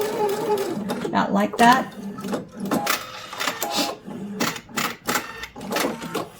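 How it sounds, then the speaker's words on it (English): A sewing machine stitching a quilt block, running in short rapid whirring bursts with pauses between them, close and fairly loud under someone talking. "we're going to just sew and make sure I get several stitches overlapped right here"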